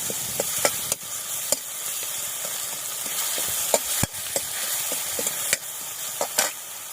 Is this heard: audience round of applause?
no